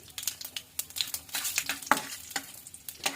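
Peanuts frying in oil over a low flame, giving a soft continuous sizzle broken by frequent crisp scraping and stirring strokes, quiet and close with no talking.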